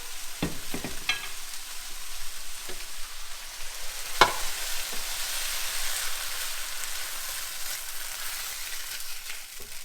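Meat browning in a pan during camp cooking, a steady close sizzle running throughout with a few sharp pops and scrapes, no voices.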